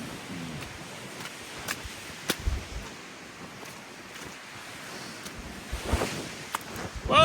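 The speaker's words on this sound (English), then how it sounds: "Whoa, the wind." Wind gusts across a muddy, narrow mountain trail in the Adirondack Dix Range, a steady broadband rush with louder swells near the end and no talking.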